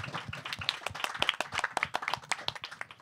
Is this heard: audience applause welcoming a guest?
yes